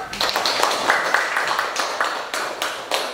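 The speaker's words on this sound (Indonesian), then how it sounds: "Tepuk tangan dong." A small group in a university history classroom claps their hands, with uneven, close taps and claps that rise and fade in short bursts for a few seconds.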